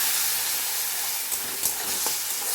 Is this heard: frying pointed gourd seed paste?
yes